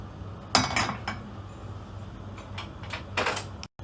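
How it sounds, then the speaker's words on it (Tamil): A pan set down on a home kitchen stove while preparing chicken cutlets, giving a few sharp metallic clanks and clinks near the start and again near the end, close and moderately loud, with no talking. "முதல்ல ஸ்டவ்வை பற்ற வச்சுட்டு ஒரு pan எடுத்து வைக்கிறோம்."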